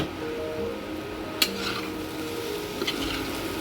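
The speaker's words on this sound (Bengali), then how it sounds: "আরও কিছুক্ষণ ভাজতে হবে আমাকে।" Taro leaves stir-frying in a frying pan, with a soft continuous sizzle and a couple of sharp utensil scrapes and clinks against the pan, fairly quiet and close.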